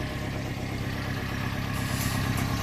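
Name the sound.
John Deere minitruck engine idling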